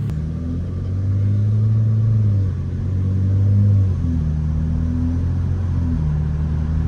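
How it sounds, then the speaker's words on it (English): Dodge Challenger fitted with an MBRP exhaust driving with an automatic transmission, a steady low engine rumble that swells and eases with two rises as it shifts, heard close and continuous without talk. "we'll give you guys some interior and exterior sounds to see what this thing sounds like in real-time driving"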